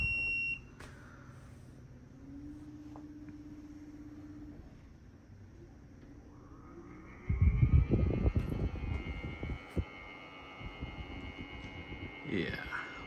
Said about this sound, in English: What a noise. And it only gets worse the higher the fan goes.